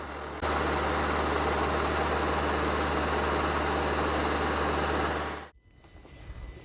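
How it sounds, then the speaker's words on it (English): A car engine runs loudly and steadily, with a low rumble and broad hiss, during a diesel particulate filter cleaning job. The sound cuts off abruptly near the end, leaving a quieter engine. "we're gonna let the revs on the engine increase"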